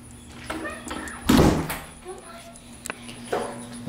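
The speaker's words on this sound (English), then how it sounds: "Morgan, you want to open that door and we'll go outside" A household door swings open onto the outside, giving one short knock-and-swing burst near the middle, with voices and small background movement around it.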